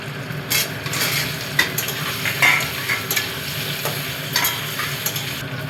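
Potatoes frying in hot oil with sugar, dried red chilli, cumin and a torn bay leaf, a steady close sizzle broken by scraping stirs and a few utensil clinks against the pan.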